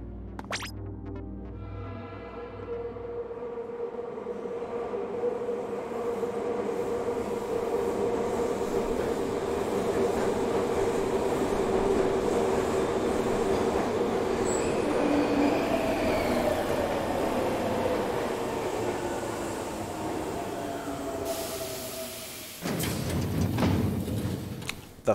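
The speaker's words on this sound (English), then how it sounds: "The 5 train." A subway-style train in the underground world of Splatoon 2's Octo Expansion rolls in, its rumble building and holding steady with a faint wheel squeal, then ending in a brief clatter as it stops.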